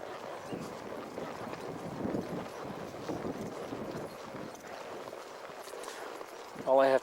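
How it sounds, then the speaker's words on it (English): A horse's hooves clip-clop on hard ground in an outdoor rural setting, a steady run of close, uneven steps that shift and stamp as the animal refuses to stand still, with light wind noise. "Hard to get the horse to stand still sometimes."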